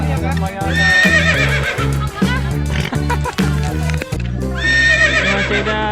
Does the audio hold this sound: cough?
no